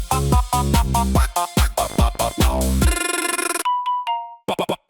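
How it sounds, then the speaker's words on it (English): A phone ringtone plays loud and up close as a quick run of bright, bouncy synth notes, then a sustained buzzy chord, a pair of clean chime tones and a few short closing blips. "Ring."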